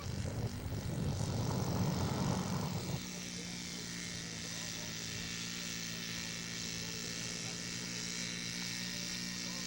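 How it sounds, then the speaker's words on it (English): A scale model aircraft engine drones steadily during a touch and go at a model aircraft contest, louder and rougher for the first few seconds before settling into a constant, fairly distant hum. "coming in for a touch and go"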